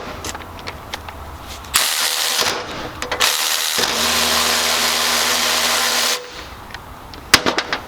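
Milwaukee M12 Fuel 3/8-inch cordless ratchet straining to break loose a tight bolt, a loud continuous motor whine lasting several seconds before cutting off, followed by a few sharp clicks.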